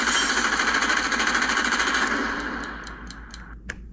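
A rapid, rattling machine-gun sound effect plays from an ESS-One sound module, a steady burst of fast repeated shots that fades out into a few separate pops at the end.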